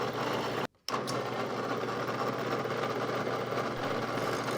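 A rotary tool with a large bit grinds a plastic resin casting, giving a steady, close, high whine that cuts out for a moment early on and then runs on evenly without any speech.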